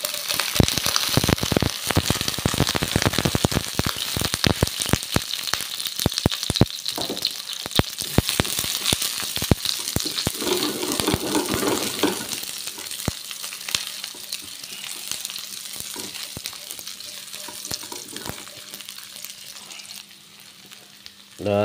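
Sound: shallots and garlic frying in hot cooking oil

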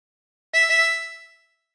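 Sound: harmonica, blowing into hole eight twice

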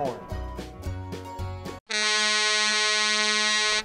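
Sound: air horn on wheelchair fire engine

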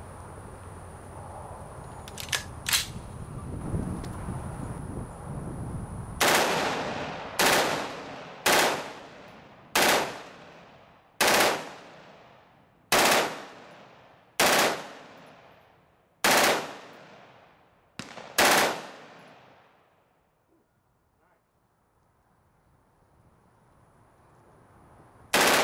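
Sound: full-auto M16 with POF upper firing 60-round Magpul PMAG D-60 drum

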